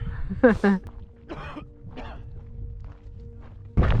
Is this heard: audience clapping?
no